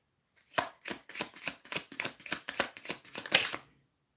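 A deck of tarot cards is riffled and shuffled in a quick, even run of about a dozen crisp flicks, close and fairly quiet with no talk.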